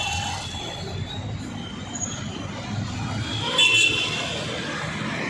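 A metro train rumbles past nearby at Dasarahalli metro station, Bengaluru, with a steady low roar and brief high wheel squeal, no talking, continuous and moderately loud.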